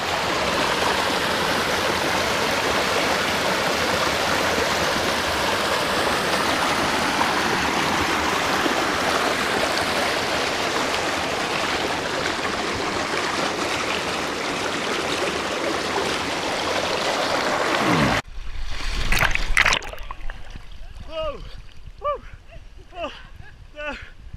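Water rushes steadily at a swimming hole, a loud continuous flow filling most of the stretch before cutting off abruptly, followed by quieter splashes and voices talking.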